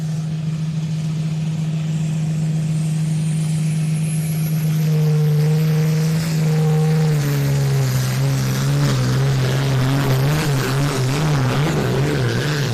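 A pulling tractor's engine roars loud and close during a 3.6 ton class pull at a European Championship event, holding a steady drone before the pitch wavers and surges unevenly as the run falters.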